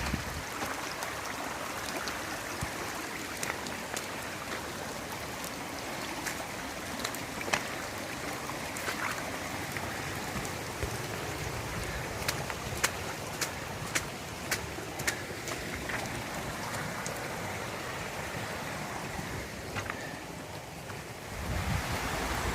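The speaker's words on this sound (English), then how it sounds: "here's the Brazilian River again, further on up, and she's flowing free today." The Brazilian River, swollen after rain, rushes in a dense, steady roar of flowing water with gusty wind buffeting the microphone and occasional sharp splashes, continuous and close throughout with no speech.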